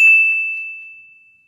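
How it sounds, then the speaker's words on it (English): A single bright bell ding rings out clearly and then fades slowly into silence. "ring the bell to be notified for our latest video"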